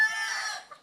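Mature hens in a breeding flock, a brief burst of clucking and crowing-like calls, fairly close, lasting under a second with no talk over it.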